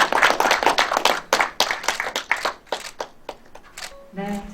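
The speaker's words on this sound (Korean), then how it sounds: "여러분 다시 한번 큰 박수 부탁드리겠습니다." Clapping at a signing ceremony for a Gyeongju racecourse land purchase agreement, a run of distinct close hand claps that thins out, with a short voice entering at the end.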